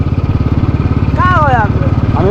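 A Pulsar NS motorcycle engine idles and revs close by with a loud, rhythmic chugging pulse while someone speaks over it.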